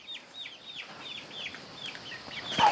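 Mother hen making soft, repeated clucks and low chirping calls, a steady string of short notes at moderate distance, fairly quiet, with a brief rustle at the end.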